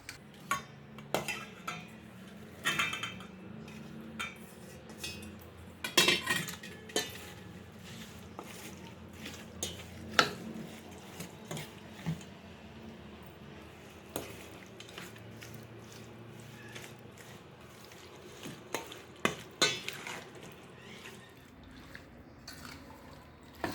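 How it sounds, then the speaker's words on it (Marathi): Raw mango pieces being stirred into cooled red pickle masala, with intermittent spoon clinks and scrapes against a bowl and soft wet mixing sounds, fairly quiet and close. "आता आपण ह्यात कैऱ्या घालूया"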